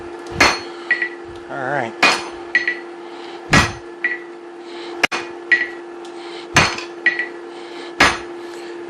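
Hammer blows on hot steel while tapering a hammer eye drift, sharp ringing metallic strikes at irregular intervals, close and loud, with a steady background hum and a brief spoken word.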